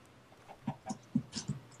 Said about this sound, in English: Oh, I found a chicken.